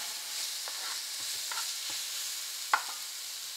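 Ginger, garlic, red chilies and curry leaves frying in oil in a pan, a quiet continuous sizzle broken by several soft stirring scrapes and one sharper clink of the utensil against the pan.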